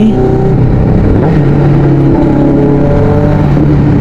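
A QJMotor SRK 600 RC inline-four motorcycle engine idles and revs loudly and steadily close by, a continuous throaty drone with no voices.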